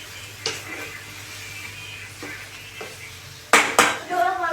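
Bread pakora batter with curd being mixed in a bowl: soft scraping, then two louder clinks of a utensil against the bowl near the end, over a low background hum.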